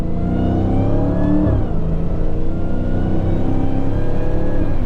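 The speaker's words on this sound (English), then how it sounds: "you hear that supercharger when you downshift" A 2023 Dodge Challenger Hellcat Jailbreak's supercharged engine is loud and close from inside the car, with a rising whine that dips briefly on a quick shift and then climbs again steadily.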